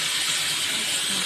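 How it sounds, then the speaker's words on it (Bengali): Onions sizzling in hot oil in a pan for prawn do-pyaza, a steady close hiss of frying without pause. "পেঁয়াজ দিলাম। দিয়ে পেঁয়াজগুলোকে সুন্দরভাবে ভেজে নেব।"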